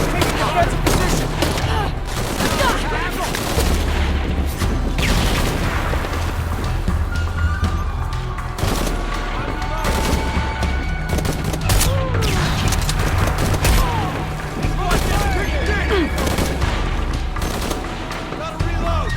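Heavy, sustained gunfire in Shadow of the Tomb Raider, dense volleys of shots and booming blasts crackling continuously for the whole stretch, with shouting voices mixed in.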